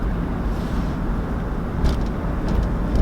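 Steady road traffic rumble in Houston heard from inside a truck, a continuous low engine and tyre drone with a few faint higher swishes of passing vehicles, no talking.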